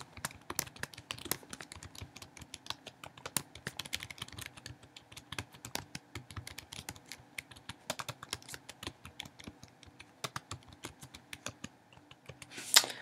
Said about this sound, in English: you can just type a little message